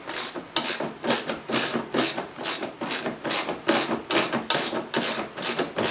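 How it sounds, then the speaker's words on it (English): A ratcheting wrench loosens a bolt on a 2003 Ski-doo MXZ snowmobile, giving a rhythmic series of close, loud clicking strokes, roughly two per second, with no talk. "get yourself a decent set of ratcheting wrenches"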